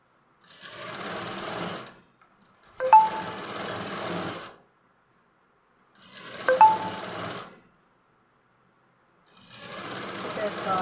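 A sewing machine stitching a joint outline with a long stitch length runs in three or four separate bursts of rapid mechanical whirring, each a second or two long, close up with pauses of silence between.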